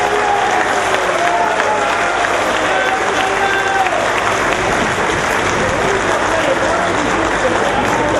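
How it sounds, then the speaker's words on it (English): A large crowd at a school anniversary celebration gives sustained applause, dense clapping with some crowd noise and voices mixed in. "Let us give our heartfelt applause to St."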